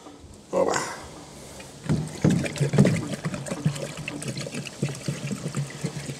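Diesel fuel trickles and gurgles as it is poured from a container into the tank of a T-40AM tractor outdoors, a steady close-up liquid pour with bursts of splashing and faint background noise.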